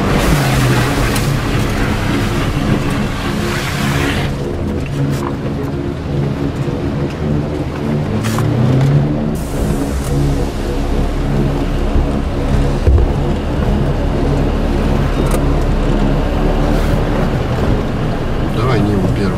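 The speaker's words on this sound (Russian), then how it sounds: "Слышишь, как наливается в салон вода?" Loud, continuous rush and slosh of water surging around an off-road vehicle as it drives through a deep crossing, with water pouring into the cabin; engine rumble and splashing run throughout, with people talking over it.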